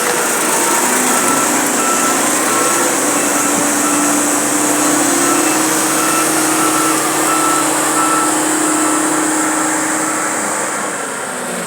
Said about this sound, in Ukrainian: Це наш трактор який кидає пісочок.